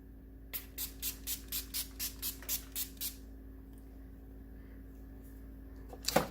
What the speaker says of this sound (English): I'm just going to go ahead and spray my face